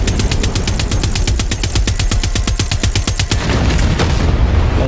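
Rapid bursts from a boat-mounted gun in Far Cry 6 hammer out a steady stream of loud, evenly spaced shots for about three seconds, then cut off into a rumbling wash of explosions and engine noise.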